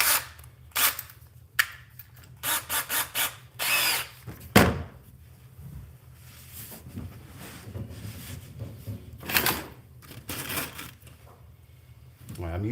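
A power tool drives stainless steel screws into a jon boat under construction, whirring in short bursts between clunks and handling noise, with a voice heard at times.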